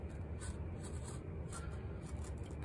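A craft knife scoring through the surface of paper makes a faint, steady, soft scratchy scraping that runs continuously at close range, with no talking.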